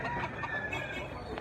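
Red bullstag rooster clucking close by, a short run of rough clucks and low calls with faint background noise.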